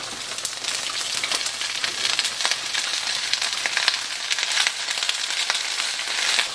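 Chicken sizzles steadily in a pan where it is sticking to the bottom, giving a dense, even crackle and hiss with tiny popping spatters throughout and no voices.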